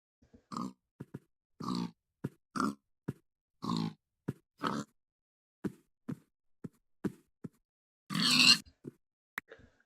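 A Minecraft pig grunts over and over in short, separate snorts with brief silent gaps between them, and one longer, louder squeal near the end, all clear and alone without talk.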